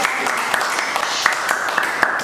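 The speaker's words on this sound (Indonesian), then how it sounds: "Tepuk tangan yang lainnya." Group applause in a classroom during a teacher-training session, a steady patter of many hands clapping at moderate volume for a couple of seconds, with a few sharper claps standing out.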